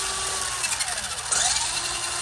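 A small electric motor in an old Radio Shack RC toy car whines steadily at close range, its pitch wavering and then rising sharply partway through.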